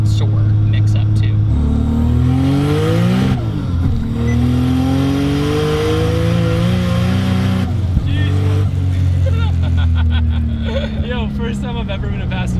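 A 600HP Toyota Chaser four-door sedan, heard loud from the passenger seat, accelerates hard. Its engine note climbs steeply through the gears with brief drops at each shift.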